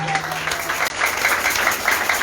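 Audience at a Traders Welfare Union of Nigeria market gathering in Edo claps steadily for the union's patron, a dense, continuous burst of applause that fills the moment, with a little crowd noise mixed in.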